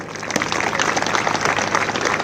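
Dense, steady crowd applause from an audience at an Agniveer passing out parade at the ASC Centre (North), many hands clapping together throughout without a break.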